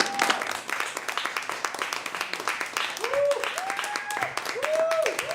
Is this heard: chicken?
no